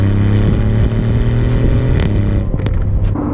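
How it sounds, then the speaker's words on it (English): A 4-liter twin-turbo V8 in an Aston Martin Vantage revs loudly and close, a steady deep rumble that dips briefly and then picks back up. "4-liter twin-turbo V8."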